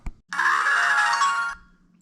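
Costco Type S 4K dash cam powering on: a short click followed by a bright electronic chime lasting about a second, clear and close, then fading into quiet hum.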